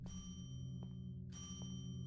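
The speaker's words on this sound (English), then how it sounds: "I've been ringing that bell for 10 minutes straight." A shop counter bell being rung over and over in the video game The Boba Teashop, two bright metallic dings in quick succession that ring on over a steady low hum.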